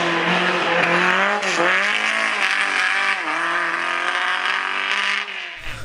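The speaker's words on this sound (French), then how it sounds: "ils font des gros freinages, des grosses entrées de virage, de la glisse" A historic race car at a hill climb event brakes hard and slides into a corner, its loud, close engine note dropping and rising in pitch with a continuous harsh roar and tyre scrub throughout, cutting out abruptly at the end.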